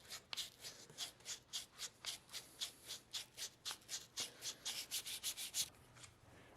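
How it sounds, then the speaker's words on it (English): Sandpaper wrapped in several layers rubbed back and forth on the curved radius of a handmade knife, a fast, even series of scratchy strokes, close and quiet, with no talking. "Sometimes if I get a lot of wraps around my sandpaper here, I can just use this to do this radius."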